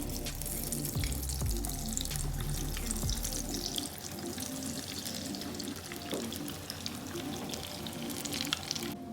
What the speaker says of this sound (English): It's time to fry our koftas, and they won't take long because these are already cooked